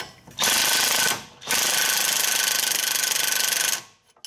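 Impact wrench spins a sway bar link nut on a 2013-2019 Hyundai: a short loud buzzing burst, a brief pause, then a longer steady rattling whir that stops abruptly, close to the microphone.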